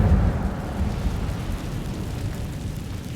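An Incendio fire spell is cast in Hogwarts Legacy, giving a low roaring whoosh of flame with rumbling crackle that starts loud and slowly tapers off.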